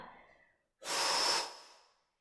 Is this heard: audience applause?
no